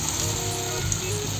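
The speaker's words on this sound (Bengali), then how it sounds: "এখন আমি একদিকে বড়াগুলোকে ভেজে নেব" Lentil bora fritters frying in hot oil for a jackfruit curry, a steady crackling sizzle with fine popping, close and continuous.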